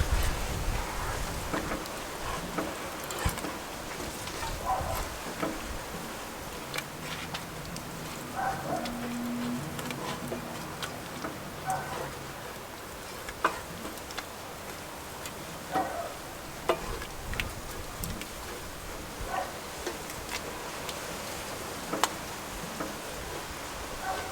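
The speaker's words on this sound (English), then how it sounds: "We'll allow this to boil, stirring from time to time until the mixture thickens" Sugar cake mixture, made the old-fashioned way, boils in a pot with a steady bubbling, rain-like patter and scattered ticks and clinks as it is stirred now and then, moderately loud and close throughout with no talking.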